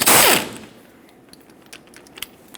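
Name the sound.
loosening 17mm brake caliper slider pin bolt with socket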